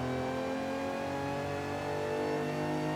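Auto Union Type D race car engine in a racing video game, a steady loud mid-pitched drone holding high revs with layered harmonics, no talk over it.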